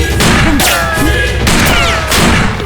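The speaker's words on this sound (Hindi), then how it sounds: "चलो गोलियां बरसाओ।" Dense, continuous gunfire from an action film, a South Indian movie dubbed into Hindi, with bursts of shots crowding together loudly over booming impacts and a steady musical bed throughout.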